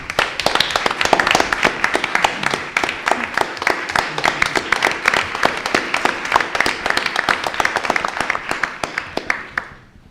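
Audience applause after speakers are introduced at a journalism awards ceremony, a dense, loud sustained patter of many hands clapping for about ten seconds before fading out abruptly at the end.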